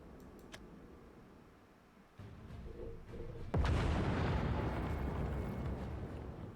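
Explosions shaking a school: a low rumble swells, then a heavy boom hits, followed by a sustained roaring, crumbling blast that stays loud and fills the space to the end.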